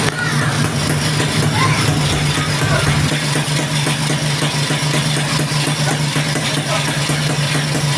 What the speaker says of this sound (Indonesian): Nah ini alhamdulillah mesinnya udah nyala ya teman-teman ya.